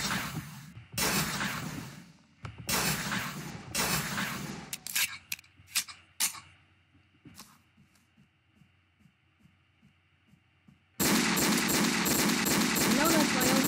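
Gunfire in a first-person shooter video game, with dense bursts of rapid shots, then a run of sharp single cracks tapering off over a faint hum, and a final long, loud sustained burst.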